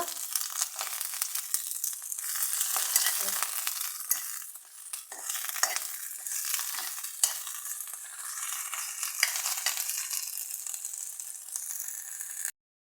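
Basella (Malabar spinach) greens are sautéed in a spoonful of oil, with continuous crackling sizzle and repeated rustling stirs for about twelve seconds before the sound cuts off abruptly, close-up and without speech.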